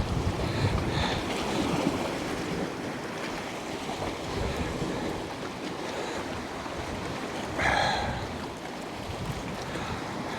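Wind buffets a microphone on the coast during bass fishing in winter, a steady broadband roar with waves in the background and a brief stronger gust near the end.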